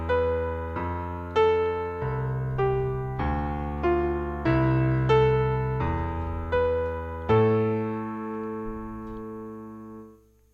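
A slow sequence of sustained tones, about eight evenly spaced chords played one per beat on a synth-like instrument, ending on a longer held chord that fades out.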